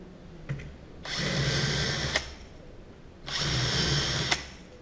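A pillar drill bores hinge cup holes in wood: two separate whirring runs of about a second each, each starting and stopping with sharp clicks, close and loud against a quiet background.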